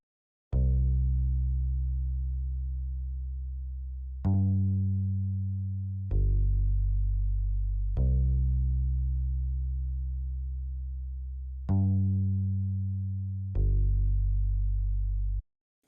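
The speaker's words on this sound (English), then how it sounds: "So then the next thing I added was this bass from the Whiteout kit." A synth bass called Bass Image from the Whiteout kit plays six deep, round notes in a slow, loud sequence, each sustaining and fading slightly before the next, with no voices.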